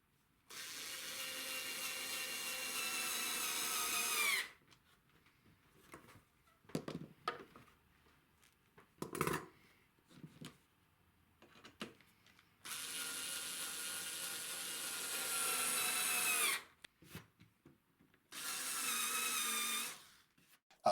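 A drill boring and countersinking holes in wooden slats for an outdoor gate, long steady whining runs alternating with short clunks and handling knocks, close by and without talk.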